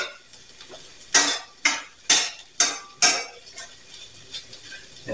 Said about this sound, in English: What you're going to do now is just going to stir this.